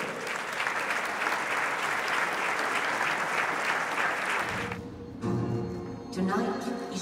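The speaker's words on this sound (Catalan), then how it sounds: "Un fort aplaudiment!" A crowd at an outdoor Olympic swimming pool inauguration breaks into loud, continuous applause that cuts off abruptly partway through, followed by music and voices.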